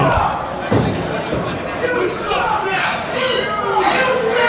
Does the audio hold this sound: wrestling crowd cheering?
yes